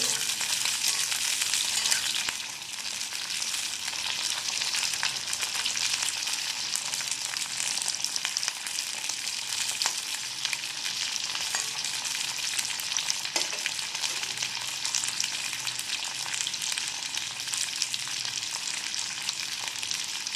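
Medium-sized cauliflower florets fry in hot oil for a Bengali-style gobi palak, giving a dense, constant crackling sizzle with occasional stirring, loud and close, no talk.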